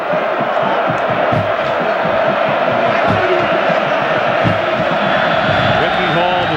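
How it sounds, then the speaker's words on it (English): Dense, roaring stadium crowd at a 1999 college football game in Blacksburg, Virginia Tech hosting Miami, cheering and whooping continuously and loudly throughout, with scattered shouts rising above the steady wall of noise. "the crowd really getting into it now here in Blacksburg."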